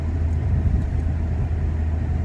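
From inside a car driving on a bumpy road, a steady low engine and road rumble drones on without a break, with no voices over it.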